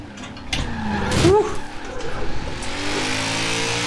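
A BMW M3 E46 tuned to 450 hp drifts in Forza Horizon 4, its engine revving hard with tires squealing and skidding in a continuous loud roar.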